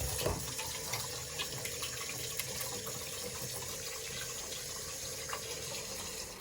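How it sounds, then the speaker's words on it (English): Cold tap water runs into a sink to rinse drained boiled eggs, a steady hiss and splash with faint clinks, continuous and close at moderate volume. "I'm gonna take all the water out, and then I'm gonna rinse them with cold water"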